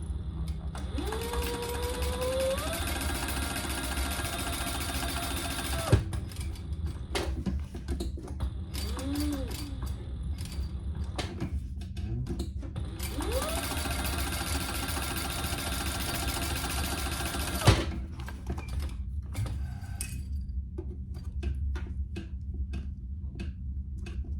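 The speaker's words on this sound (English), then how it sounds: "I'm gonna have to run a new bobbin, so I'll do this real quick though" Sewing machine winding a new bobbin: a steady mechanical whir with rising and falling motor tones runs in two long bursts, each ending with a sharp click, with quieter handling sounds in between.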